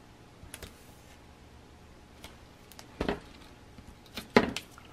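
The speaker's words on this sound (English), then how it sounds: "Okay, so I'm going to put tape here." Adhesive tape is pulled and pressed onto a paper tri-fold mini album cover. A few soft crackles and two sharper, louder bursts stand out against a quiet room.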